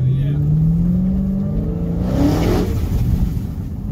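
A Dodge Hellcat accelerates hard at a drifting event, heard from a passenger's seat: a loud engine tone climbs steadily in pitch under heavy road and wind roar, with voices in the car.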